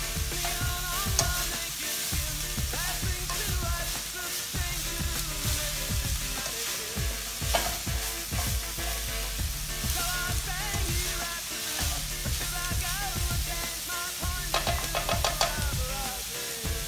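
Vegetables and yakimeshi ingredients fry in rendered bacon fat, giving a steady, close sizzle broken by repeated rhythmic stirring and scraping strokes across the pan, with no voices.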